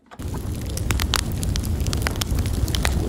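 A crackling fire roars steadily with a deep low rumble, while sharp, bright pops and snaps burst out irregularly throughout. It is close and loud, with no voices.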